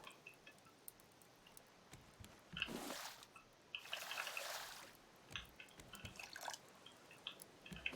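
Water pours onto plants in the survival game Raft in two short splashing bursts. Faint drips and small clicks come between them, and the scene is otherwise quiet.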